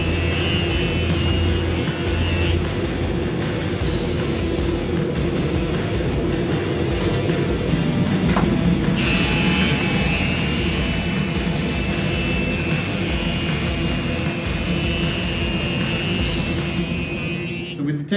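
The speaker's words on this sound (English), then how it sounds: "First thing we're gonna do is plane it actually" A power planer runs continuously over a wooden board in a workshop, a loud steady whining roar with a slight shift in tone partway through as the blade bites.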